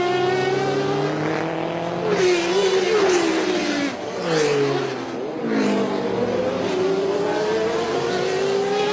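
A 1993 Le Mans race car, a Peugeot 905 Evo1 or Toyota TS010 at around 200 mph, brakes for the Indianapolis corner: a loud, close engine note that drops sharply on downshifts, then revs climb again through the corner.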